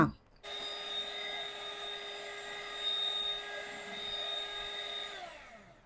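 An electric hand mixer beats whipping cream with powdered sugar in a steady, high-pitched motor whine that holds unbroken for several seconds before winding down.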